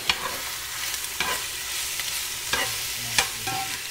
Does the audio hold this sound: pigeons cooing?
no